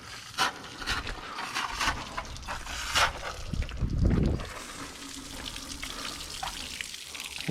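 Water splashes and gurgles steadily as it is pumped through a Yamaha 70 hp four-stroke outboard motor, a continuous close rushing flow with a brief louder surge midway.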